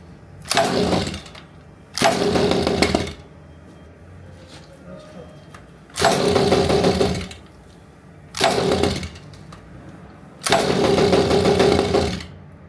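A small RC car engine starts and revs in five loud bursts of a buzzing, rasping whine, each lasting about one to two seconds, with quieter pauses between them.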